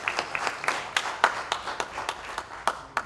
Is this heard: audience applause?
yes